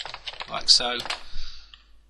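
A quick flurry of keystrokes on a computer keyboard while typing a NETSTAT command, brief and close, mixed in with a person speaking.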